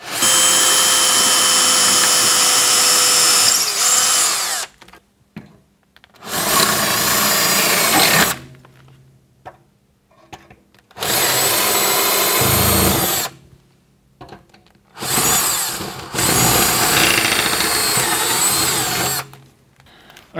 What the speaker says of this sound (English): first thing I need to do is drill some 6mm diameter holes